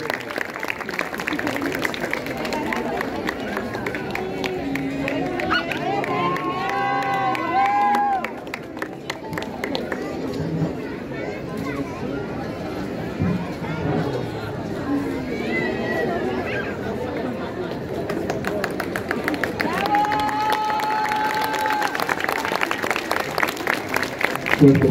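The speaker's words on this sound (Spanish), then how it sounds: "Un fuerte aplauso para este gran merecido segundo lugar, Stephanie Álvarez." Crowd applause and cheering for a second-place finisher at a living Catrinas costume contest during a festival in Zacapu, a steady dense roar with chatter mixed throughout and an announcer's voice over it.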